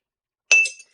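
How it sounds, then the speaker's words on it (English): A spoon clinks once against a glass while stirring a Parrot Bay coconut rum and Mountain Dew Frostbite, a single bright ringing tap that fades, then a faint second tick, close and alone. "Give that a quick stir."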